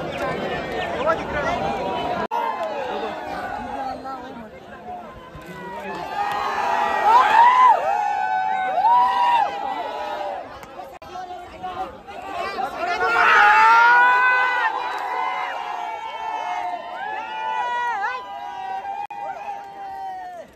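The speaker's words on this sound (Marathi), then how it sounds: "कसली पब्लिक बघली का? एखाद्या हिरोच्या पण माग नसते तशी पब्लिक आली" A large crowd at a bullock cart race chatters, shouts and cheers, with the noise swelling in waves and peaking twice, with voices calling out close by over the dense background hubbub.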